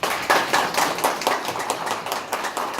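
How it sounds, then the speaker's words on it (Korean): Audience at a company meetup giving a speaker a welcoming round of applause, a few close, distinct hand claps in an uneven rhythm over a steady wash of clapping, no talking. "큰 박수로 맞이하여 주시기 바랍니다"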